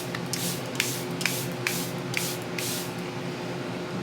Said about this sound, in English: I do setting spray.